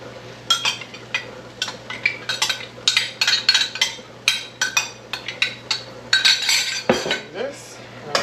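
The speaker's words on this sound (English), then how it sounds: "And we'll give that a little mix around here." A spoon clatters and scrapes against a hand-made Chinese wok while rice vinegar, sesame seeds and hoisin sauce are stirred together. The metallic knocks come close, loud and in quick irregular bursts.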